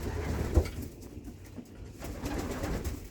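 Young pigeons in a loft coo softly and repeatedly, close by, with a brief louder bird call near the start against a low, steady background.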